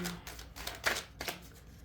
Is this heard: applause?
no